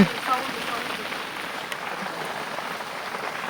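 Rain falls through the trees of a garden at night as a steady, even hiss of drops on leaves, moderately close and continuous, with no voices.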